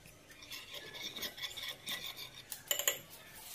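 A spoon mixes scraped aloe vera into a homemade skin mixture, making soft, close scraping and rubbing strokes with light clinks against the bowl, quiet and irregular, with no voices.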